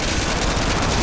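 Rapid, sustained automatic gunfire from the Modern Warfare 2 video game, a dense continuous burst with no pauses, loud and close throughout.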